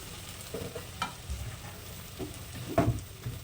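Chopped potatoes and carrots fry in a pan with curry leaves and coriander, a soft steady sizzle broken by quiet scraping stirs, close and faint.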